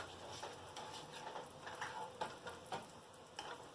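Potatoes stirred in a frying pan beside a cooking hamburger, a steady close sizzle of frying with repeated scraping, clinking stirring strokes, no voices.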